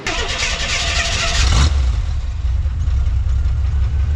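A 1974 Jeep CJ-5 with a 4.2-liter inline-six starts up: a brief cranking burst catches within about a second and a half, then settles into a loud, steady idle close by.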